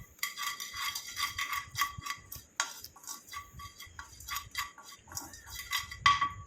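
A spoon stirs bhringraj powder being lightly roasted in a pan over a low flame, producing light metallic scraping and clinking taps in an irregular rhythm, close and moderately loud.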